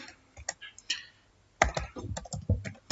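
Computer keyboard typing, close and crisp, with a few scattered keystrokes followed by a quicker run of clicks.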